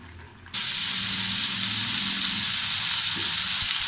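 Mutton liver cooks dry in a pan over a high flame, setting off a loud, steady sizzle. The sizzle starts suddenly after a quiet moment and keeps up without a break, with no voices.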